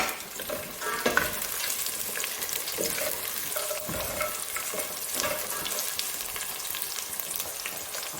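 Onions frying in a pan with black pepper added for a white chicken kabsa, a steady crackling sizzle broken by the scrape and clatter of stirring, close and unaccompanied by talk.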